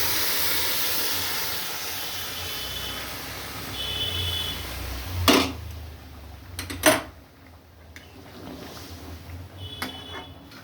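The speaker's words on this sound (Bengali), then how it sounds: "ডবল জল আমি গরম করে রেখেছি, 4 বাটি জল আমি দিয়ে দিলাম।" Hot water poured into rice in a pan for morog polao, starting as a loud, steady rushing hiss that fades, followed by a few clanks and knocks of the pan and utensils nearby.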